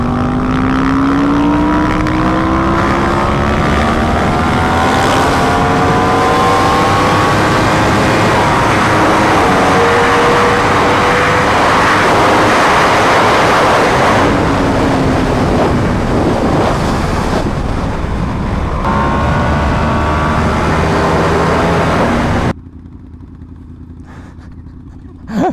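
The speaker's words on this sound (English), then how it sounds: "The backfire pops on this thing is actually pretty crazy." Yamaha R1M sport bike engine at speed, a loud continuous roar with rising and falling revs through gear changes, wind rush and crackling overrun pops, until the engine note drops away near the end.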